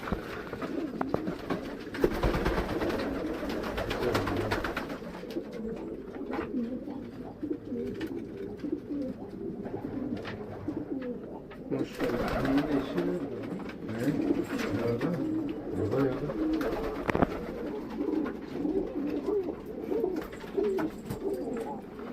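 Flight pigeons coo continuously in low, throaty rolls in a coop of about four hundred birds, several overlapping close by, with a few louder bursts of fluttering or knocking mixed in.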